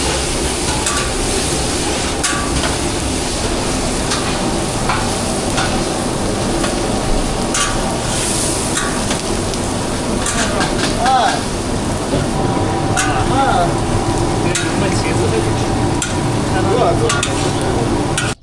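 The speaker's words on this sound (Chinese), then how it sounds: "茄子下锅了。" Eggplant stir-fried in a wok in a monastery kitchen at Gedo Monastery: continuous oil sizzle with scraping and stirring of the pan, steady and close, with faint voices in the background.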